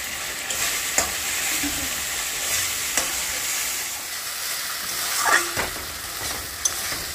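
Spice paste fries and is stirred in a pan over a home stove, with a constant loud hiss and crackle. Occasional scraping taps of a spoon against the pan come through, and no one speaks.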